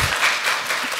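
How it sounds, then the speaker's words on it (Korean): Steady audience applause at a youth meeting with a lawmaker, a dense wash of many hands clapping at once, fairly close and continuous, with no talking over it. "저도 박수에 한 박수를 보태겠습니다."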